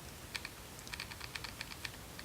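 Fingers tap on a computer keyboard in irregular bursts of quick, light keystrokes, faint and fairly close, with a low background hum and no talk.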